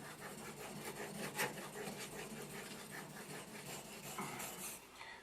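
A convex knife edge is ground on sharpening stones, giving a steady, close scraping and rubbing sound with repeated strokes throughout.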